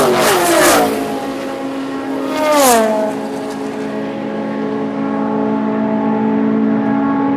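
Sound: Porsche sports car racing engine at Daytona

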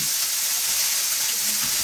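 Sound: eggplant slices frying in oil

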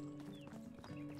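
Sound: horse hooves and whinny in video game Medieval Dynasty

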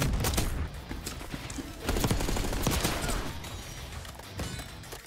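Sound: gunfire in video game Call of Duty Black Ops 6

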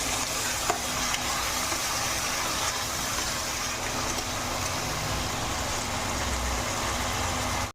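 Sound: ginger garlic chili paste frying with potatoes in oil

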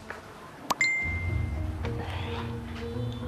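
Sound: message notification ding on phone

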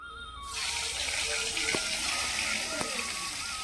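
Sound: eggplant frying in oil

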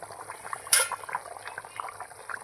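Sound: curry boiling in a covered pot

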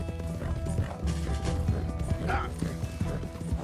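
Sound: horse galloping in video game Red Dead Redemption 2

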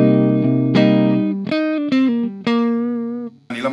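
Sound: Cuvave Cube Baby guitar amp simulation, US Go 50B tweed

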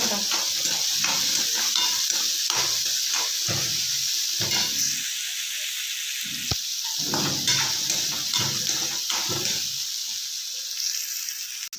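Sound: onions frying and being stirred in a pan

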